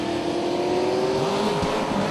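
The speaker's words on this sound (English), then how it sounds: "And the Ohio racer, Tom Reese, will be alongside. In that pretty 81 Camaro." Drag racing cars, an 1981 Camaro and a Chevelle, roar loud and steady at the strip, with a sustained engine drone and a rising whine from a passing car, no talk.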